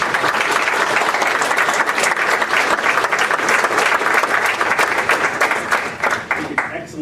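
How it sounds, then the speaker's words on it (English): A round of applause from a meeting audience for visiting magnet school students, dense steady clapping filling the room at close range, continuing throughout before thinning and tapering off at the end. "I think the students that came here deserve another round of applause."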